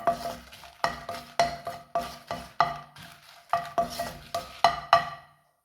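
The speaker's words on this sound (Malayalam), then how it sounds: "ഇതിൽ ഇതാ വെളിച്ചെണ്ണ ഉണ്ട് നമ്മൾ നെല്ലിക്ക മൂപ്പിച്ചതിൽ അതിൽ നമ്മുടെ ഈ വറ്റൽ മുളക് ഒന്ന് വാട്ടിയെടുക്കാം" Dried red chillies being tossed in coconut oil in a pan after gooseberries were fried, heard as a regular series of about a dozen scraping stirs with a faint sizzle between strokes, close and without speech.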